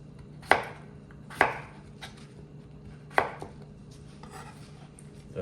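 A knife cuts fish into cubes on a board, giving three sharp, close chops spaced unevenly, then a softer tap, over a quiet steady hum.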